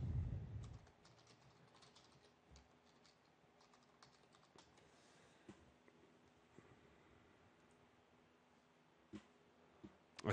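Typing on a computer keyboard, faint, sparse key taps spread over ten seconds against a quiet room hum, with a louder thump at the start.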